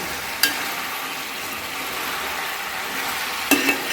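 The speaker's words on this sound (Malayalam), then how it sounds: "ചിക്കൻ ഇട്ട് കൊടുത്തതിന് ശേഷം കുറച്ച് ഇങ്ങനെ ഇളക്കി കൊടുത്തിട്ട് ഞാൻ ഇടയ്ക്ക് മൂടി വെക്കുന്നുണ്ട്" Chicken pieces for a curry fry in a pan with a loud, steady sizzle. A couple of sharp knocks come from the spoon or the lid as the chicken is stirred.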